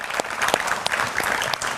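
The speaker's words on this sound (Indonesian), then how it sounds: "Tepuk tangan untuk semua narasumber saya pada malam hari ini" A studio audience applauds the guests of a televised political debate show, a short burst of close, lively clapping with no talk over it.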